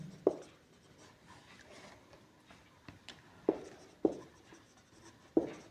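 Quick strokes and taps of writing on a classroom board during a profit-and-loss lesson, about five crisp hits spaced unevenly over a quiet background, with no voices.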